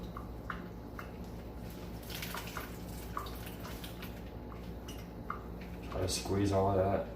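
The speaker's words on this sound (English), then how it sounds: "a lot of that is the faucet water" Faucet water running over sea moss in a kitchen sink, a steady splashing rush with drips and squishes, growing louder toward the end, while a person talks.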